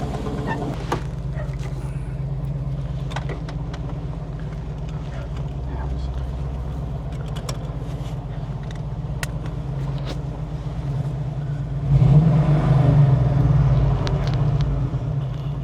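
A 1970 Plymouth Cuda 340 V8 with four-speed manual, running rough on seven cylinders from a low-compression number one cylinder, rumbles steadily and close inside the moving car, swelling louder near the end, with talk over it.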